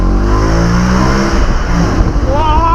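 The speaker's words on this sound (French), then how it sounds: "je passe juste en mode sport pour l'échappement" A 2007 Audi RS4 with a 420 hp V8 and sport exhaust revs hard nearby, loud rising engine harmonics dropping back, with a voice briefly audible over the engine.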